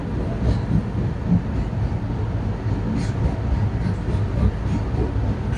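A Jan Shatabdi Express with a Vistadome coach runs along the Konkan Railway, making a steady, close, continuous rumble and rattle with no breaks or pauses.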